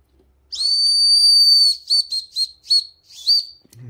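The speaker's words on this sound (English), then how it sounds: "there's a whistle for your lot" A small whistle found in a storage unit gets blown: one long shrill blast, then five quick short toots, loud and close with no talk.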